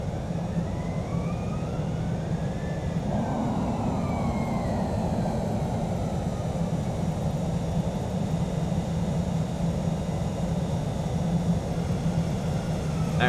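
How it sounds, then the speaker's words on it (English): Loud, steady roar of F-18 jet engines in Microsoft Flight Simulator, a dense continuous rumble with a rising and falling whine layered on top, close and unbroken throughout. "Those F-18's engines are super loud, which they are in real life too."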